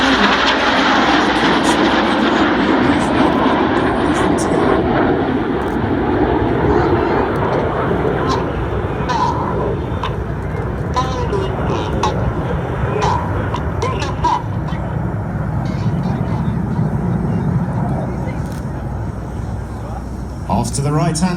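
Red Arrows jets of the Royal Air Force flying past in a seven-aircraft formation at a New York airshow, a loud sustained engine roar that swells and fades with commentary over a public address throughout.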